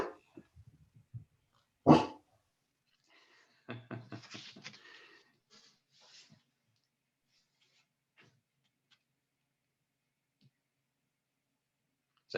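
A dog barks during an online meeting, a few sharp separate barks and some softer yips with long quiet gaps between them, close to the microphone.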